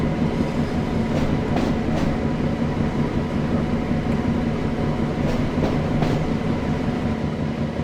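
A British Rail Class 08 shunter running as a light locomotive in a train simulator game gives a steady low diesel drone with faint rail clicks, continuous and close.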